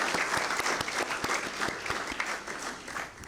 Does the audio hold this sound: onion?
no